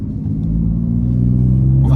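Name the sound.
Alfa Romeo Giulia Quadrifoglio engine driving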